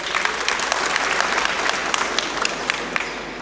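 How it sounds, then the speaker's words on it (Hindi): A crowd of students and guests at a school felicitation event claps steadily for a young boy, dense applause with a few sharper individual claps standing out, close and continuous with no talking. "एक बार तालियां हो जाए इससे।"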